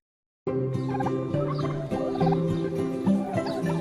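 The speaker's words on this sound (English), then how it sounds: "All the turkeys I rear for Lidl are free-range birds." A flock of turkeys gobbling, several overlapping warbling calls close by, starting suddenly after silence and continuing throughout.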